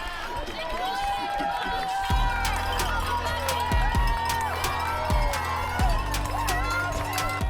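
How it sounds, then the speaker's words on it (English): Spectators packed along both sides of the road inside the park at the NYC Marathon cheer and whoop steadily for passing runners, a constant crowd roar under close voices and music. "inside the park, the cheering never stops"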